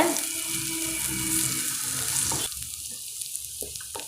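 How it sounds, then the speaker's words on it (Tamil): Curry leaves and onions are sautéed in hot oil in a pan for vermicelli kichadi. A loud, crackling sizzle fills the first half, then drops to a softer frying hiss with small pops and stirring scrapes. "நாம் இப்போ கருவேப்பிலை சேர்த்துக்கலாம் நல்லா வதக்கிக்கோங்க"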